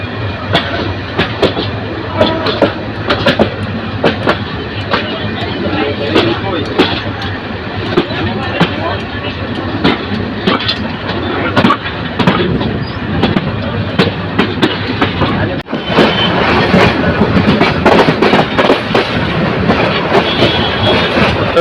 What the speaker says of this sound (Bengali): ট্রেনটি কমলাপুর থেকে বেরিয়ে মালিবাগ রেল ক্রসিং অতিক্রম করে যাচ্ছে